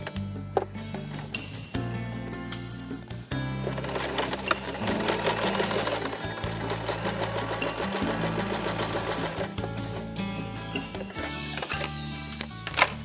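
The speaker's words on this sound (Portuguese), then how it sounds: "essa costurinha aqui para dar formato ao forro" A sewing machine stitches the fabric lining of a toiletry bag, running in bursts of rapid, close mechanical whirring that start and stop several times.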